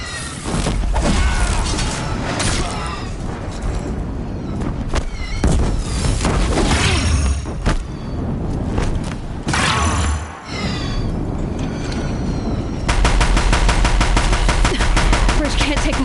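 Deathbringer machines in Horizon Zero Dawn pound a bridge with sustained, rapid heavy gunfire and booming impacts, dense and loud throughout the scene.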